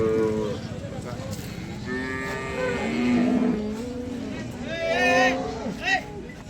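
A Jersey cow at the Sangola cattle market lets out several long, loud moos one after another, with traders talking nearby amid the market babble.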